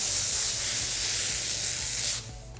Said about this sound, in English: So I'm gonna use my steam gun to kind of, I guess, approximate that mechanical action.